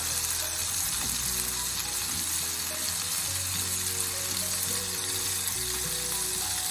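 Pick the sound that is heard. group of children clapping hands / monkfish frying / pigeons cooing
monkfish frying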